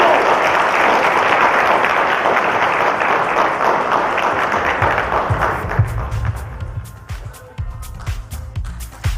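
An audience at a national entrepreneurs summit bursts into loud applause that gradually thins out over several seconds, leaving scattered individual claps and low thumps toward the end.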